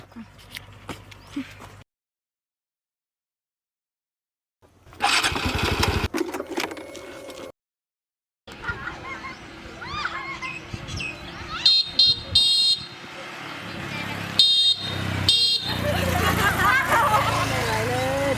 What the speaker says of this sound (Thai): ขี่รถยังไงเนี่ย เสียงดังกวนบ้านกวนเมือง